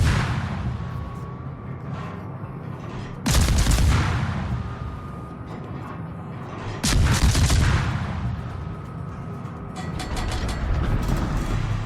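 Naval gunfire from an enemy ship firing SAP shells in a destroyer battle game, two heavy booming salvos a few seconds apart, each with a long rumbling tail over constant engine and sea drone.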